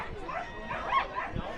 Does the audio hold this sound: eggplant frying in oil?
no